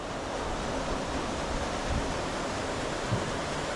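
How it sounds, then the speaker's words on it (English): Water rushes steadily through the mill race of a flint mill beside the River Churnet, a continuous, even hiss with no voices. "So obviously a mill race, possibly an overflow down to the river."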